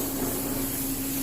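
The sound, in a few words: cooking spray sprayed into a pan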